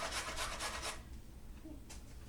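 Food is rasped over a hand grater in a quick run of short strokes, followed by a pause and one last scrape, close and fairly quiet.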